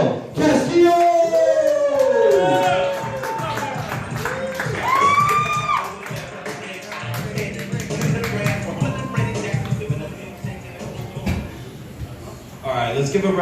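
Crowd applause and cheering at an open mic night, a broad wash of clapping and whoops lasting several seconds with an emcee's voice talking over it.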